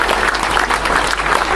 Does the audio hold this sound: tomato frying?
no